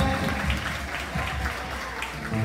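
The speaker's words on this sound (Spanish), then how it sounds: "Fuerte los aplausos para Brianet y para Brian" Crowd applause at a sixteenth birthday party for two siblings rises over dance music, a continuous moderate clatter of many hands filling the brief span.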